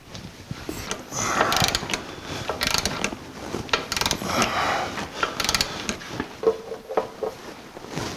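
A ratchet wrench works on transmission bolts of a 1949 Chevrolet gasser, giving close, loud bursts of rapid clicking and mechanical rattling in several uneven runs, without talking.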